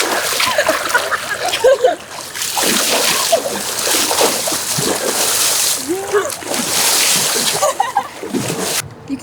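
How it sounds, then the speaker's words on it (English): Water splashes loudly and repeatedly at a summer camp swimming area during a water safety lesson, with bursts of churning spray throughout and people talking nearby. "Splash!"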